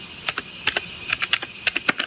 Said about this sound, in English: what you're going to want to type in is ATI flash